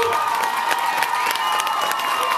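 A crowd at a couples dance-off final in Lipnik applauds and cheers strongly, a steady dense roar of clapping and shouts with a sustained tone running underneath.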